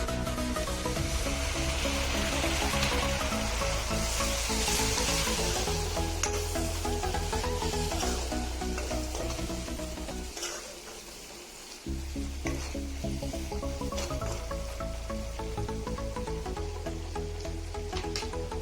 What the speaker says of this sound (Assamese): মছলাখিনি দি অলপমান ভাজি ল'ম ভালকৈ। এতিয়া মছলাখিনি দি মই ভালদৰে লাৰি দিছোঁ।